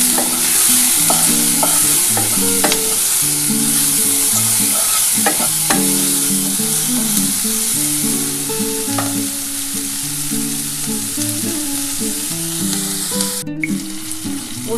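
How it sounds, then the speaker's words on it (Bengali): Food fries in a pan with turmeric while it is stirred, making a continuous loud sizzle broken by repeated scraping and clinking strokes throughout, with no talking. "এটা ভালো করে একটু নাড়াচাড়া করে নেব"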